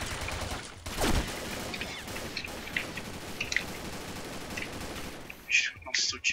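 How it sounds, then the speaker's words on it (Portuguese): Bursts of rapid gunfire crackle through a busy video game soundscape, with a few sharper shots standing out near the end. "o tiro tá comendo solto aqui"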